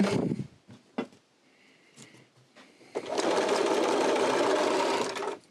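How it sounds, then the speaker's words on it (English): A sewing machine stitches a coin purse seam with a back stitch: a few short bursts and clicks, then about two and a half seconds of steady, close, rapid whirring stitching that stops abruptly. "we'll just continue across, back stitch a little bit"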